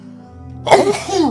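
A single close, loud sneeze following a short quiet lead-in, sharp burst then a fading voiced tail, from a man recording at home.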